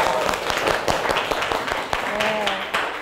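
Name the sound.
classroom applause for a student's answer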